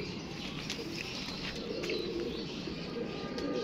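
Soft pigeon cooing drifts over a low, steady background hum, with a few faint chirps; the calls are gentle and fairly quiet.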